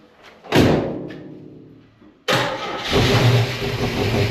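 Engine cranks and catches with the choke held closed, a sputtering start that dies back, then a sharp restart into a loud, rough, steady run close by.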